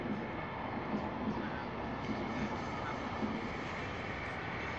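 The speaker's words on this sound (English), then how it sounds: "You see some trains going across in the distance." Trains cross far off near old railway tracks, a steady low rumble and broadband hiss that hold throughout with no sharp onsets, faint and distant.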